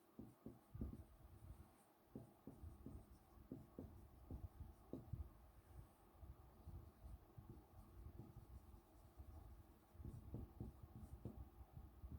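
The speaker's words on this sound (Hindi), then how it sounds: "रिलेशन की ऑफिशियल फॉर्मल डेफिनेशन लिख लेते हैं" Chalk or pen writing out a definition during a maths lecture on relations, with quiet, steady scratching strokes in irregular bursts and short pauses, heard close and alone.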